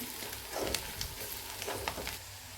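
Roasted chillies frying in a pan sizzle softly and steadily as tomatoes go in, with a few light stirring and scraping clicks, faint and close, with no talking.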